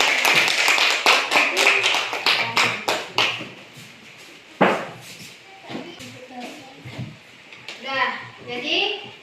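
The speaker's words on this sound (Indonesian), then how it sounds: "Silakan beri tepuk tangan." Children in a classroom give a short round of applause, a burst of quick, close claps lasting a few seconds that fades into scattered taps as voices talk.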